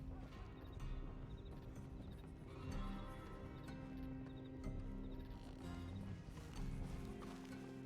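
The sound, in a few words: horses' hooves clip-clopping in the video game Red Dead Redemption (RedM)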